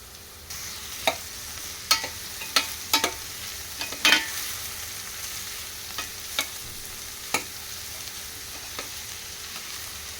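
Ridge gourd pieces frying with onion in a pan, a soft continuous sizzle punctuated by a series of sharp spatula taps and scrapes at irregular intervals, nearby and fairly quiet.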